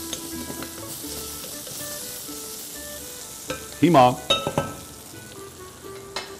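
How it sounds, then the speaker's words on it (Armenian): Pieces of lamb and onion frying together in a pan, with a loud continuous sizzle close by, then several sharp bursts as the food is stirred, and a brief spoken word near the end. "Միսը տապակվում է, սոխը տապակվում է"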